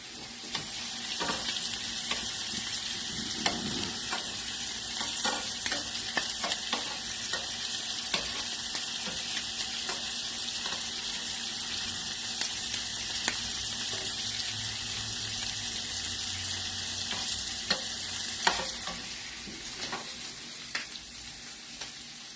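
Shrimp sizzle steadily in a frying pan for a tagliatelle shrimp piccata in lemon sauce, with a constant hiss of frying and repeated light scrapes and clinks as the pieces are turned, no talking.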